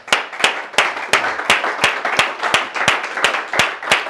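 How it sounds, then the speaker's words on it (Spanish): A church congregation claps in a steady rhythm, about three claps per second, each sharp and distinct against a faint murmur of voices, moderately loud and even. "le podemos dar al Señor un aplauso"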